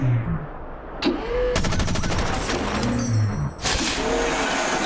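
Video-game gunfire rattles out in rapid automatic bursts that start and stop abruptly. The shots are loud and close, with no talking.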